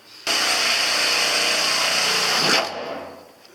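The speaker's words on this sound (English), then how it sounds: "I'm going to drill another pilot hole down here" A power drill whines at a steady high pitch for about two seconds drilling a pilot hole for a window in a camper van conversion, then winds down and stops, close by.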